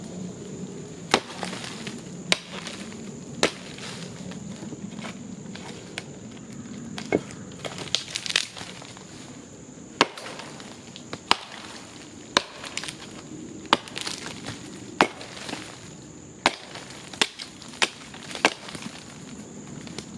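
Chopping into a standing dead pine that is nearly solid pitch-filled fat wood: a steady series of sharp, crisp blade strikes, roughly one every second, close by and alone outdoors.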